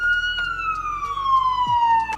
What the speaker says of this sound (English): sirens go off so much around here